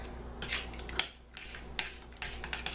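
A spoon stirs oatmeal in a bowl, giving soft scraping and clinking strokes in an uneven rhythm. The sound is close and fairly quiet, and nobody speaks.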